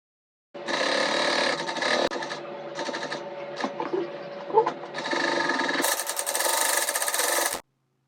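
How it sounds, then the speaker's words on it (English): An electric sewing machine stitches interfaced fabric pieces together at a half-inch seam allowance, running in steady close bursts with short pauses and a faster, louder final run. "I'll go ahead to join both sides together, sewing down on half-inch allowance."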